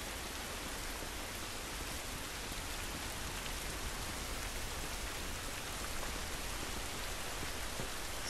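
Steady, dense rain in the video game The Last of Us Remastered hisses evenly without pause, a constant wash of falling drops with no voices.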